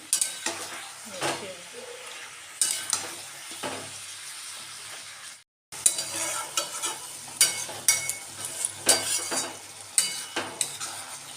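Cabbage and a fish head are stirred in a sizzling pan, a spatula scraping in repeated strokes over a steady frying hiss, close and moderately loud, broken by a short pause midway.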